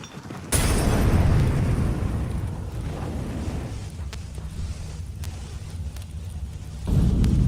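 An incendiary grenade goes off in a video game, a sudden loud whoosh that becomes a sustained roaring burn with low rumble, then swells again near the end.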